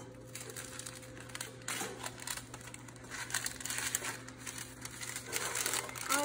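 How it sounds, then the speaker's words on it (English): Parchment paper is crinkled and pressed into two cake pans during home baking, producing a continuous close rustle of crackles that swells and fades for several seconds over a low, steady hum. "you put some parchment paper on the inside"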